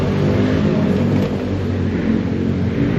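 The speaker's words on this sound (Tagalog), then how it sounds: "Yan ang makina, guys, oh. 5-liter engine na Ford Mustang." Ford Mustang with a 5-liter engine idling up close, a loud continuous rumbling drone that holds steady throughout, with no voices over it.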